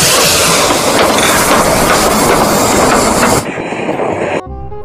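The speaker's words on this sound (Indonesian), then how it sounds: "kalau yang ini kita mendapatkan kereta api Thomas" A toy Thomas the Tank Engine train gives off a loud, steady rushing rumble that stops suddenly after a few seconds, leaving a faint mechanical hum.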